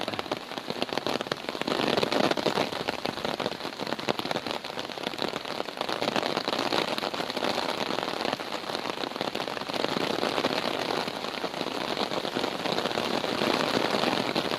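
Steady rain patters and hisses on a hard surface, dense and continuous throughout with no voices.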